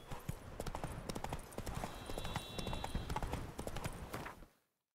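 Hooves of the horse Roach clip-clop in The Witcher 3, a rapid, even rhythm of close hoof strikes on hard ground that runs steadily for about four seconds before cutting off abruptly.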